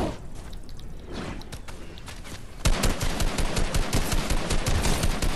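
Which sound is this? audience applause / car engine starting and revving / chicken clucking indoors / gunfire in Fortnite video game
gunfire in Fortnite video game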